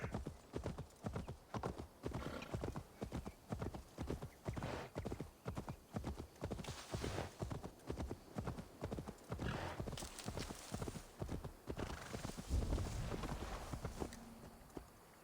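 Horse hooves galloping in Assassin's Creed Valhalla, a fast steady run of clip-clop beats with a brief whinny, continuous and close for the whole stretch.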